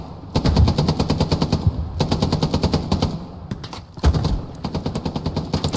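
Rapid bursts of automatic gunfire in the World War II shooter Hell Let Loose, loud and close, with dense rattling volleys that pause briefly and resume, one sharper blast standing out near the end, and no talk.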